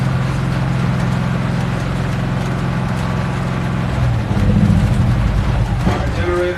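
A portable generator running steadily at a roadside tire change on a rainy night, its loud droning hum shifting and winding down as it is switched off, with traffic and rain noise around it.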